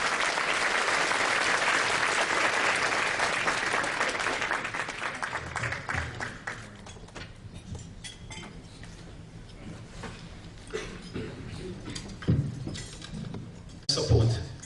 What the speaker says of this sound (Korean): 박수와 함께 맞아주시기 바라겠습니다